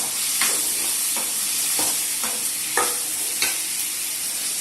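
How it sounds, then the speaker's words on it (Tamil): Cut moringa drumstick pieces sauté in a pan for a South Indian dried fish curry, with a steady frying sizzle broken by regular scraping stirs of a spoon, heard up close without talk. "நெக்ஸ்ட் முருங்கைக்காய் நம்ம கட் பண்ணி வச்சிருந்தோம் இல்லையா, அதையும் போட்டு ஒரு வதக்கணும்."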